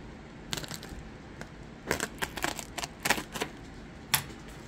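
A blade cuts open a mail package, with a series of short, close tearing and crackling bursts in an irregular rhythm against a quiet background.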